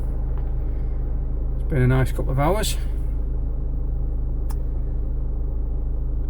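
A low, steady rumble fills a car interior, continuous beneath a voice that speaks briefly.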